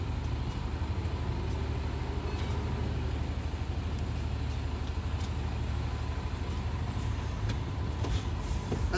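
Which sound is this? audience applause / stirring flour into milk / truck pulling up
truck pulling up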